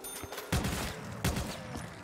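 An assault rifle fires in Call of Duty Zombies, with two or three heavy, close gunshot bursts spaced about three-quarters of a second apart over a dense, noisy game background.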